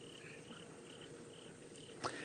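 Crickets chirping faintly outdoors at night, a steady high trilling that repeats in short pulses over low background hiss.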